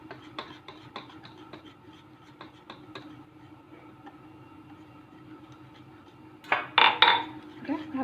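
A utensil scrapes and taps against a bowl while flour is mixed into sponge cake batter made with sugar, eggs and refined oil, rhythmic light clinks at first, then louder clattering strokes near the end.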